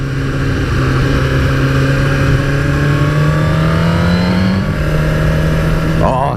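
A 2018 Suzuki GSX-R1000R engine on the road, a loud, close, sustained drone rising gradually in pitch, with a voice heard over it.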